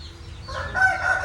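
A fighting cock crows close by. The crow is a strained, rising call that lasts about a second, and no one speaks over it.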